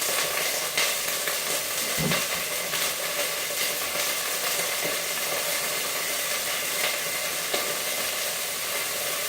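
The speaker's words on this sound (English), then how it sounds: "And you can hear them frying up." Steady crackling sizzle of shrimp frying in hot olive oil, continuous and close, with a few brief pops and clatters along the way.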